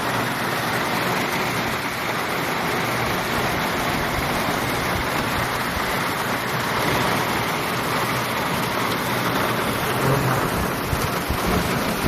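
Heavy rain pours down hard and continuously, a loud, dense roar close by with deep rumbling mixed in, lasting the whole time without any speech.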